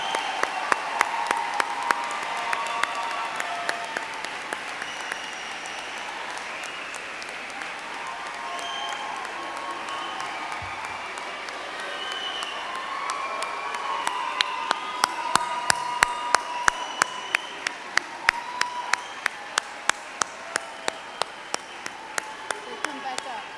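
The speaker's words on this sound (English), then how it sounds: "please join me in a round of applause for the School of Health Technology and Management" A large convocation crowd applauds a graduating health science class, sustained clapping that swells midway, with sharp repeated claps standing out close by over the dense wash of hands.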